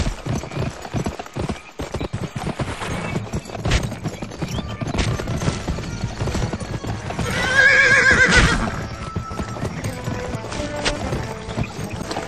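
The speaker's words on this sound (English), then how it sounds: "Get on that horse and follow me." Rapid hoofbeats of a galloping horse drum on steadily in the video game GUN on Xbox 360, with a loud whinny rising midway over the rumbling action.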